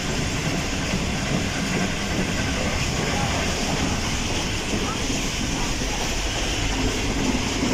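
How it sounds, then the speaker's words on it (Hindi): The Awam Express passenger train runs at about 110 km/h near Jungshahi station, a loud, unbroken roar of wheels and rushing air with faint rhythmic clatter, heard from on board. "गाड़ी इसमें फुल स्पीड पर जा रही है 110 किलोमीटर पर आवर"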